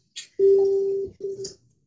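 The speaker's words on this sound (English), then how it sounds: "I don't know how to turn the notifications off there, so I'll just turn the volume down" Two electronic phone notification tones sound close together, a steady beep followed by a shorter one, each framed by faint clicks, clear against a quiet background.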